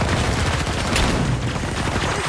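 Dense, rapid video game gunfire crackles without a break, a continuous burst of shots with no pauses and no voices.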